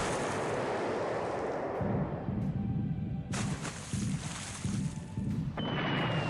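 Naval air attack in a World War II strategy video game off Singapore, with Swordfish torpedo bombers scoring hits: a dense roar of rumbling explosions and booming blasts rolling continuously, with repeated low thuds.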